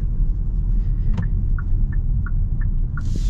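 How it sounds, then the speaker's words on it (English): A 2024 Kia Soul's turn signal ticks inside the cabin, a chunky, evenly spaced click repeating about every third of a second over a low engine rumble. "Chunky turn signal sound."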